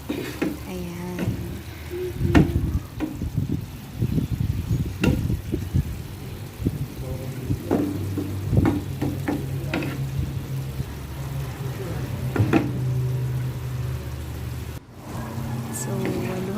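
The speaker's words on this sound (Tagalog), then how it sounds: "So, halu-haluin lang natin ulit." Onions and beef sizzle and fry in a pan for bistek Tagalog, with intermittent stirring scrapes and clinks throughout, while someone talks over the cooking.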